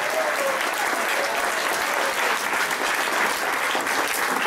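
A theatre audience at a live stage show gives dense, steady applause for a performer, an even wash of clapping that fills the whole stretch with no voices over it.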